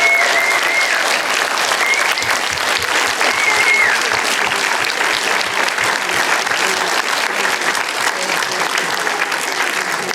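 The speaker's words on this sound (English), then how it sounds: "So can we give the cast of The Bay a massive round of applause and thank them." Audience at a premiere screening of a television drama gives the cast a long, loud round of applause, dense continuous clapping with a few cheers, sustained throughout.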